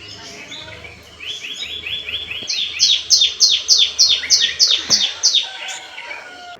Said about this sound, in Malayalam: കിളികളുടെ കളകളാരവവും ഒക്കെ കേട്ട് രാവിലെ എഴുന്നേറ്റ്